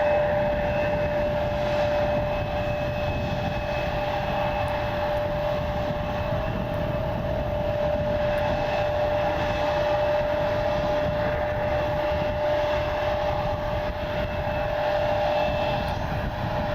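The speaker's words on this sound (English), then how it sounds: "There's the SkyWest CRJ" A SkyWest CRJ regional jet at Cleveland's airport gives a steady, loud whine and roar that holds evenly throughout, with a bright tonal engine hum over broadband rush and no talking.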